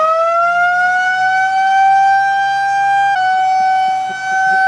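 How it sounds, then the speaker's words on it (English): A tornado warning siren sounds during a test, one loud, sustained rising wail held steady for several seconds with a slight dip near the end and no voices. "Are we really testing tornado sirens right now while we're filming?"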